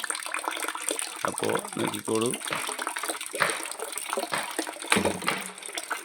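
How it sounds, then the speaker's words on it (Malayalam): Water flows into a tank, heard as a broad, steady rush running under someone speaking throughout. "ടാങ്കിൽ വെള്ളം പോകുന്നു"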